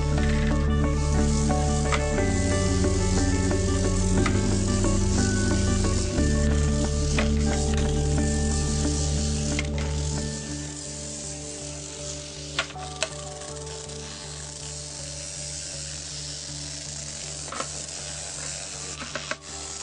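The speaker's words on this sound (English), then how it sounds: "you've got the battery hooked up, the motor's going, and then more or less just put it down" A battery-powered bristle bot made from a toothbrush head with a small vibrating motor, giving a steady buzzing hum with a dense tonal whine. Partway through it drops to a quieter, thinner rattle with a few faint clicks, close to the listener.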